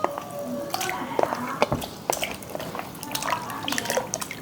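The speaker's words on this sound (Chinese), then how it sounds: "买回来的排骨，把它清洗一下哦" Pork ribs being rinsed in water, giving close wet splashing, dripping and squishing from handling in a basin, steady throughout with bright spikes and no talk.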